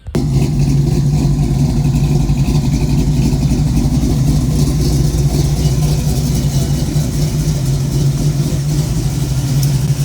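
A 1973 AMC Javelin V8 idles steadily and loudly up close, a deep continuous rumble with a slight lope from an engine still needing tuning, running alone without talk.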